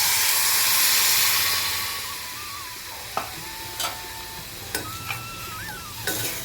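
Tamarind water poured into a pan of frying okra erupts in a loud hiss that slowly dies down, followed by several sharp clinks of a spoon stirring against the pan.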